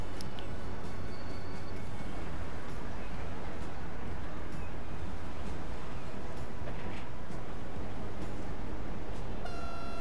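A train runs along a line between Vitznau and Luzern in a railway-building simulation game, rumbling steadily with a brief horn toot near the end, no speech heard.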